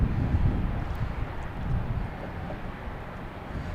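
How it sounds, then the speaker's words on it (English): A Delta Embraer E175 regional jet, arriving from LaGuardia, comes in to land at Boston Logan Airport. It is a steady, broad, fairly distant rumble with some wind buffeting, heard alone. "Okay, we got Delta coming in from LaGuardia and E175."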